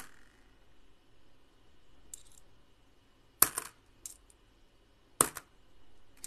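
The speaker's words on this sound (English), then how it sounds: "listen to me search for coins" Australian one- and two-dollar coins clink as they are sorted by hand, a few sharp metallic taps and a soft jingle spaced apart against near silence.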